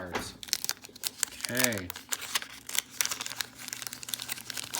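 Crinkling and tearing of a 1987 Donruss baseball card wax pack being opened, close and busy crackly handling throughout, with someone speaking briefly over it.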